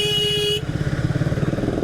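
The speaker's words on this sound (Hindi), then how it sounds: "हॉर्न बहुत लो है, बहुत लो।" A Triumph Speed 400 motorcycle's horn gives a steady, fairly thin tone for about half a second, then cuts off, leaving the 400 cc bike's engine idling with a rhythmic pulse.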